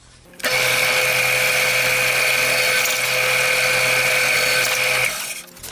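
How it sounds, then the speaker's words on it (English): A drill press whines steadily at a high, even pitch for about five seconds while drilling holes in wood, loud and close, then spins down and stops. "The drill press makes quick, clean work of pre-drilling these holes"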